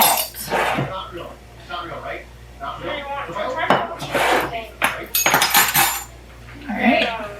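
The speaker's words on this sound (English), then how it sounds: "let's just get these whisked through" Dry ingredients for gluten-free cinnamon rolls, including salt, being whisked in a bowl, giving close, irregular metal-on-dish clinks and scrapes with people talking over it.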